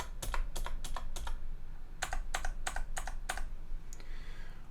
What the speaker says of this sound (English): You can also zoom in and out by using the plus and minus keys on your keyboard